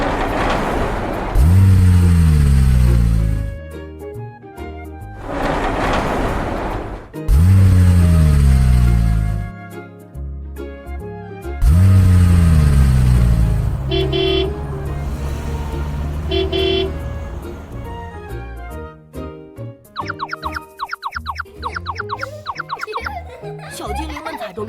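Children's cartoon scene of construction vehicles setting out: repeated loud engine revs rising in pitch, three bursts in sequence, with toots and horns, cheerful music and laughter mixed in, ending in brighter jingling effects.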